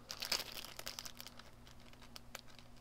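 Plastic crinkles faintly nearby, with a sharper crumple burst early on followed by softer scattered rustles.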